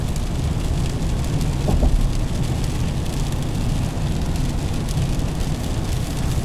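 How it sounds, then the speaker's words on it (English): Harder rain drumming on the roof of a 2020 Chevrolet Silverado 1500 RST, heard from the cabin as a steady, dense broadband wash with a low rumble underneath, no voices. "It's starting to rain a little bit harder."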